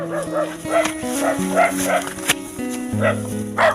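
A small dog yaps a few times, fairly close, over a steady musical background with sustained tones.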